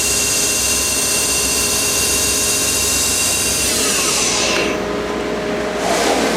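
Mori Seiki Frontier L1 CNC lathe spindle running at around 2000 RPM with a dense, steady, loud mechanical whine and hum that shifts in pitch near the end, without speech.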